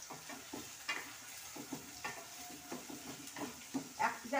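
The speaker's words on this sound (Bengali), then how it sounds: "এবার এটাকে ভালো করে সুন্দর করে নাড়তে হবে।" Turmeric, chilli powder and other spices being stirred in a pan, with soft scraping strokes and light sizzling at close range. The strokes come in a loose rhythm, and faint voices can be heard in the background.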